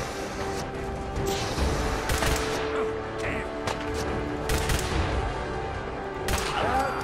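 An incendiary weapon in a video game fires a series of sharp, close shots at irregular intervals, each a loud crack over a busy background of combat noise and mechanical clatter.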